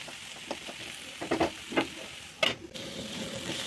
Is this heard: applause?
no